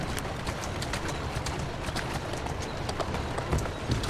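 Rapid hooves clip-clop steadily, as of a horse trotting or running, in the video game Assassin's Creed Syndicate, over a constant noisy background with no voices.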